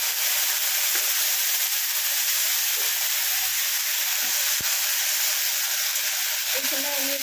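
Steady sizzling hiss of tomato and ginger sautéing in a pan for chana dal, continuous and close, with faint stirring taps and a voice speaking softly beneath the frying.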